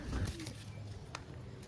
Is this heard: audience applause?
no